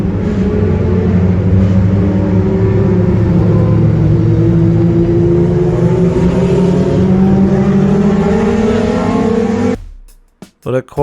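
Sped-up Formula One race car engines whine in a continuous loud drone, the pitch slowly rising and falling as cars stream past, then cutting off abruptly into a few sharp knocks near the end.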